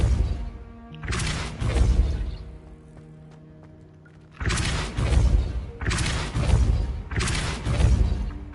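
A Depulso spell cast in Hogwarts Legacy gameplay, heard as a loud, broad rushing blast lasting about a second, a quiet pause, then a longer run of several heavy whooshing bursts in quick succession.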